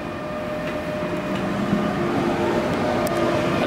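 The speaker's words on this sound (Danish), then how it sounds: "Ja, det er IR4-toget 2013'eren med røde døre." Inside a Danish IR4 passenger train with red doors, a continuous low rumble and droning hum of the moving carriage, steady and fairly loud throughout with faint clicks.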